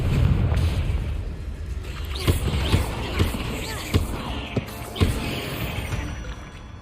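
Bombarda and Confringo spells blast in Hogwarts Legacy, firing a quick series of sharp booms and bursts in uneven succession over a steady game soundscape.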